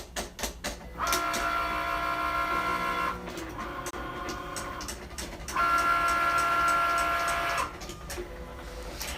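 A Silhouette Cameo 3 and a Cricut Maker cut side by side, their motors whirring with tonal buzzing in repeated sweeps, mixed with clicks and ticks of carriage movement, close and steady.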